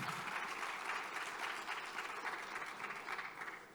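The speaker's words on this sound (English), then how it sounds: "Please, a round of applause for him." Conference audience applauding at a panel on African security policy, dense sustained clapping from many hands, steady and fairly near throughout.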